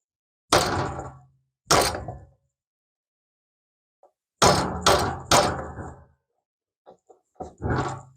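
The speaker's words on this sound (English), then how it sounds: "Then I'm going to knock that axle through that" Metal bike axle being hammered through an aluminum spacer on a trail bike front fork, sharp knocks in a broken rhythm, some single and some in quick clusters, with fainter taps near the end.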